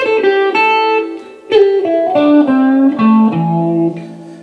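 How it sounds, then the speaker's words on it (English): Electric guitar solo in a blues style, with five string bends of varied timing: two straight bends, then a longer held one, sustained notes sliding in pitch, loud and close with no talk. "this time we're going to do 5 bends, which are kind of varied in their timing."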